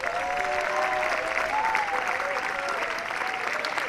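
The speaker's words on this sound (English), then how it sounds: "Please give them a huge round of applause." Sustained audience applause at a military academy commencement ceremony, a steady dense wash of clapping from a large crowd, with faint voices and cheers mixed in throughout.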